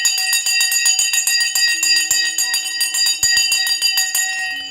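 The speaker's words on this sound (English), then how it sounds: "The bell has gone and let's see." A stock market opening bell rings out loud and alone, in a rapid run of bright, evenly spaced strikes that last several seconds.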